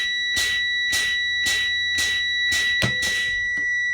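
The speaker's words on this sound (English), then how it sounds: "So there's my low air pressure alarm. It's already alarming." Low air pressure alarm in a Thomas Saf-T-Liner EFX school bus cab, a loud steady tone pulsing in about seven even bursts under repeated fanning of the brakes.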